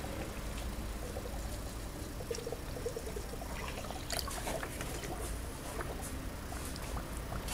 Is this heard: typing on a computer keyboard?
no